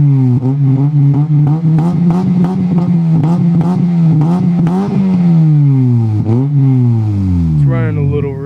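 A 2001 Toyota Corolla engine is revved repeatedly, and the exhaust note climbs and falls in a rapid series of loud, close blips. The last rev drops away as the engine settles, with voices talking over it.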